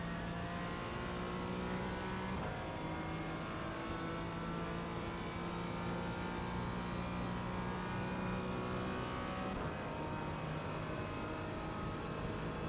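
A Porsche Cayman GT4 in iRacing at Hockenheim holds a steady, rising engine note at full throttle, with smooth upshifts around two and ten seconds, heard alone and close.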